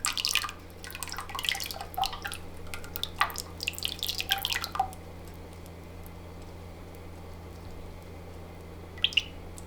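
Lye solution for soapmaking strained into a container, trickling and dripping in a quick run of small wet ticks for several seconds, then quieting to a faint steady hum with a couple of late isolated drops.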